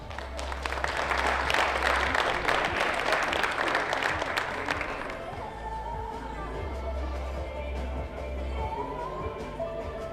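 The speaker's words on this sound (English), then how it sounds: "Make sure you give them applause when we introduce them" Spectators clap for athletes at a junior women's air pistol European championship final, a dense burst of applause for about five seconds that fades into quieter hall ambience with low hum.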